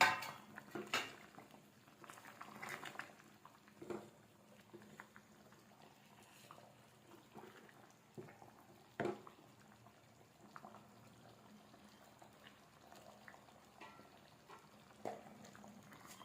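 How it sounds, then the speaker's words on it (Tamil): Faint low bubbling and simmering of paneer masala gravy in a pan, with a few soft clinks and scrapes of utensils now and then, quiet and close. "நல்லா கொதிக்க விட்டுருவோம்"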